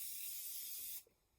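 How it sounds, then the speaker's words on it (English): A Morphe continuous setting spray is misted onto a face as one smooth, steady hiss lasting about a second, then cutting off sharply into near silence. "I'm going to go in with the continuous setting spray from Morphe."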